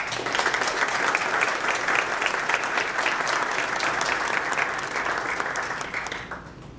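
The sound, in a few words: audience applauding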